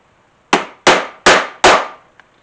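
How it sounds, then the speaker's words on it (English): A hammer strikes a 1/8 inch hole punch set on a poly cutting board four times in steady succession. The blows are sharp, close and loud, and each one rings out briefly before the next. A faint tap follows, with no voices. "So I'll take my 1/8 inch punch, put it on my poly cutting board,"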